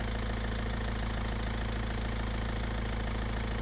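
Mercedes C 220 coupé diesel engine idling steadily after starting, a loud, continuous close-up rumble with an even mechanical knock throughout and no talking.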